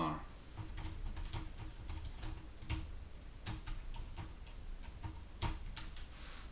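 Keys tapped on a computer keyboard in a quiet room, a steady run of light clicks at an irregular typing rhythm with a few sharper strokes, close and fairly faint over a low background hum.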